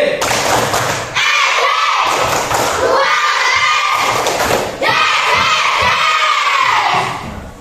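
Schoolchildren perform the Tepuk SD clapping chant, a loud, close group of young voices shouting in unison with rhythmic hand claps, delivered in three energetic bursts separated by brief pauses.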